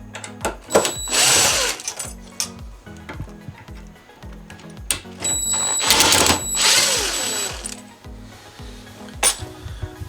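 Power screwdriver backing Phillips screws out of a Bosch dishwasher during a water distributor replacement, giving two whirring bursts with metallic clinks and taps between them, close and fairly loud.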